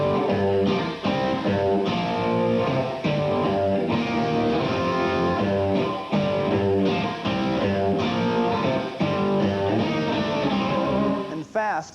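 Electric guitar melody joining chord shapes with pivot notes, 1980s hard rock instructional style: a dense, continuous run of picked notes and chord stabs with steady rhythm and no speech over it.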